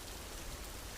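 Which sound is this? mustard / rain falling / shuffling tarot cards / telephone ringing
rain falling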